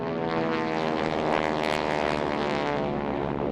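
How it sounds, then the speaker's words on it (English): World War II trainer planes passing overhead at a veteran's funeral, a loud continuous propeller engine drone with rich layered harmonics, steady throughout. "World War II trainer planes flew overhead, one leaving the pack to symbolize his passing"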